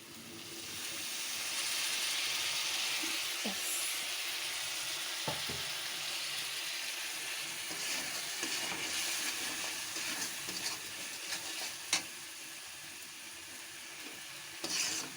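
Spice masala for a Bengali mutton curry sizzles and hisses steadily in a pan after a splash of water, with scattered stirring scrapes and a few sharp clicks over about fifteen seconds, no voices.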